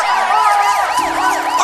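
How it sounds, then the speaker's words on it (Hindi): A loud, close police siren wailing in rapid, repeating up-and-down sweeps, with a steady lower tone underneath. "इनको सुनाई देता है पुलिस का सायरन"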